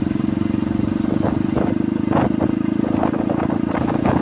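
Motorcycle engine hums steadily and loudly throughout with continuous wind rush, recorded on the move along a road between Musi Rawas and PALI in South Sumatra.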